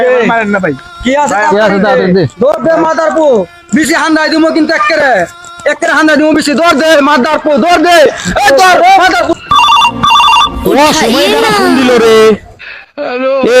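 A mobile phone rings with a loud melodic ringtone that plays almost continuously for about twelve seconds before cutting off.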